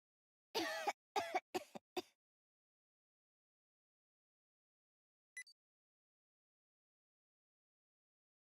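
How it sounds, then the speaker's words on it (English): A quick burst of several coughs close up, then a long silence broken by one brief faint sound. "Coughing."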